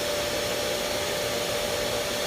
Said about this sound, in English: When you let go of the trigger, the vacuum cleaner runs for about 5 seconds